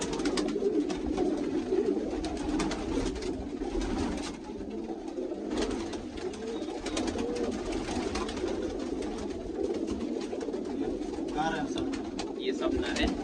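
Male pigeons, crested fancy birds kept by a breeder in Hasanpur, cooing in a steady low murmur close by, with occasional louder calls and someone talking over the flock.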